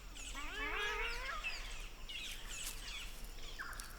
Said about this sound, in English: The local birds gather at trees that are in fruit